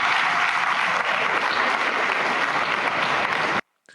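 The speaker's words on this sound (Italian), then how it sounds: "Un lungo applauso alla rappresentanza di studenti iraniani in piedi, per primi seguiti da tutta l'aula magna del rettorato." A lecture-hall audience gives long, dense applause for a delegation of Iranian students, a loud, unbroken wash of clapping that cuts off abruptly near the end.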